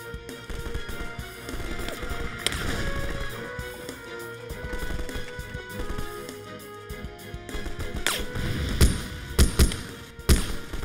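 A rocket explodes in a battle scene, with a dense rumble of blasts, thuds and impacts that grows heavier toward the end with sharp, loud hits, and no talking.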